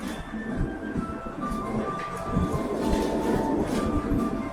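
Train rolling past on a trip across Vietnam, a steady rumbling clatter with faint squealing tones, moderately distant and continuous, with people talking faintly in the background.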